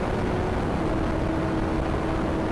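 A superbike engine with a flat-plane crankshaft holds a steady, close, even drone at constant revs, with a smooth unbroken rush of noise and a faint sustained tone and no break.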